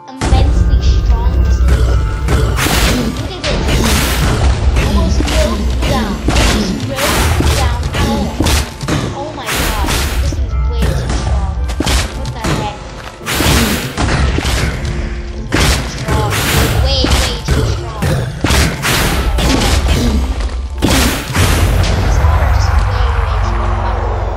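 Explosions and heavy thuds from a Minecraft mod, a dense run of loud booming blasts and impacts packed back to back across the whole stretch, with talk mixed in over the noise.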